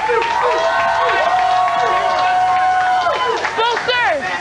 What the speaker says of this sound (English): on applaudit tout de suite